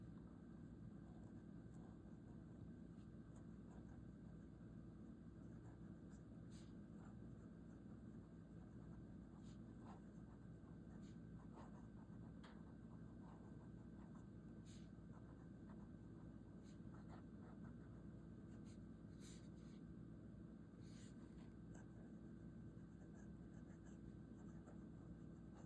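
A Conklin Duragraph fountain pen with a 1.1 stub nib writing on paper, giving faint, scattered scratchy strokes over a steady low background hum for about half a minute, with no talk.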